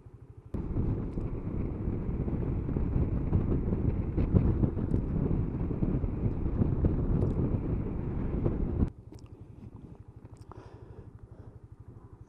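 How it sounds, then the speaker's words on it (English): Strong wind buffets the microphone on an open hillside in Derbyshire, a loud roaring rumble for most of the stretch that suddenly drops to a quieter, steady background. "It's ever so windy."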